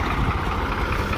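A farm tractor idles in the open during a trolley rescue. The engine gives a loud, close, steady rumble with constant vibration and no break.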